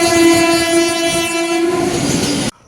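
The Amritsar Mail stands at a station platform, its loud, steady horn blaring close by over rolling rail noise for about two and a half seconds before cutting off abruptly.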